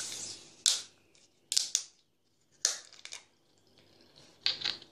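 A plastic bottle of Rychal-Su mineral water is opened with several sharp crackling twists and bursts of fizzing hiss, separated by short quiet gaps, close to the microphone.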